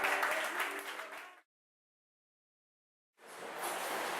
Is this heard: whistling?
no